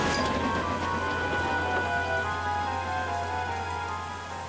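Steady rain falls continuously, a broad even hiss that holds level and fades slightly at the end, with no voices.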